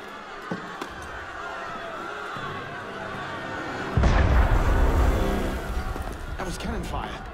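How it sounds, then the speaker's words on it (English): Cannon fire in the video game Assassin's Creed Unity: a heavy boom lands midway and rolls out into rumbling noise, with a voice talking through the scene. "That was cannon fire."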